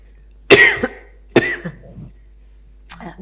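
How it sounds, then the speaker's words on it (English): A person coughs in three distinct bursts at close range, the first two loud and harsh, the last quieter, with short silences between them during an indoor interview. "I'll just continue to cough."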